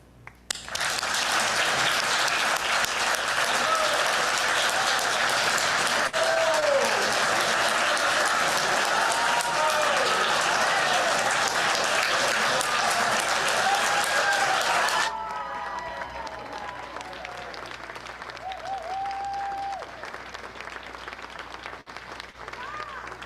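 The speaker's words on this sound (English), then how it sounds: "may I ask all the poets and our musician to stand for your applause in celebration of poetry service at Peoples." Congregation applause at a Sunday poetry service in a church, sustained clapping and some cheering that fills the first fifteen seconds, then drops to softer scattered clapping with a few voices and bright tonal sounds beneath.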